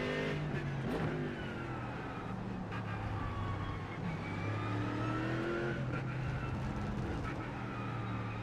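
Race car at Interlagos in the iRacing simulator, its engine droning at a steady pitch while rising and falling through corners, moderately loud and continuous with no speech.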